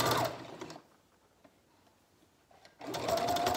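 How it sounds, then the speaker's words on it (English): A sewing machine stitches a shawl collar seam at a 3/8 inch allowance, a close whirring run that stops, leaving a quiet pause, then starts up again. "we're gonna sew using a 3/8 inch seam allowance again"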